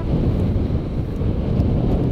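Wind blowing over a sand dune by the sea, a loud steady low roar of gusts hitting the microphone, continuous throughout.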